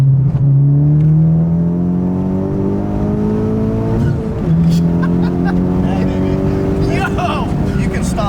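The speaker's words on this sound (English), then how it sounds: "So this is the rolling anti-lag" A loud Honda Civic Type R FK8 engine, tuned to 400 wheel horsepower, held at steady revs with rolling anti-lag, its droning hum dipping and rising, with sharp exhaust pops over a continuous rumble.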